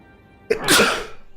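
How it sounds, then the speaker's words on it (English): A single loud, close human sneeze: a brief sharp intake followed by a forceful explosive burst that trails off, alone with no talk. "Oh, I have to sneeze."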